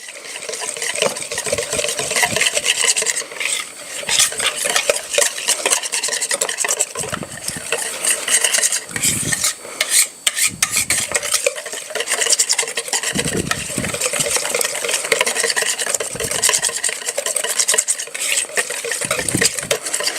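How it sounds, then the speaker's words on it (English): A whisk beats a creamy dill dressing for potato salad until smooth, scraping and clattering steadily against the bowl. The rapid stirring is loud and close and runs almost without a break, with only brief pauses and no voices. "I'm going to whisk this all together until it's smooth and creamy."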